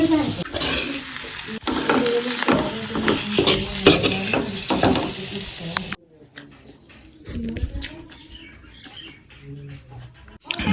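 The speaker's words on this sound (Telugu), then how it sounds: "ఎగ్ కర్రీ చేస్తున్నా సింపుల్గా ఎగ్ కర్రీ" Egg curry cooking in a pan, with sizzling and frying under stirring and clinks of utensils against the pan, busy and close for several seconds, then quieter stirring with birds chirping in the background.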